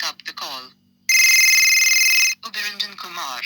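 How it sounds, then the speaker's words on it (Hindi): A custom name ringtone plays on a phone, a sustained electronic ring of about a second, set between stretches of a person talking before and after. "हालांकि ये रिंगटोन बन गया, देखिएगा सुनिएगा, मैंने बना दिया है"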